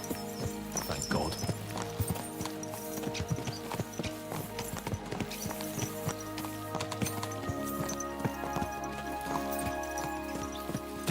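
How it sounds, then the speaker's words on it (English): Horse hooves clip-clop in a steady rhythmic gait while riding in Kingdom Come Deliverance 2, accompanied by occasional whinnies, over a sustained musical backdrop with some talk. "Let's really spur these horses on, eh?"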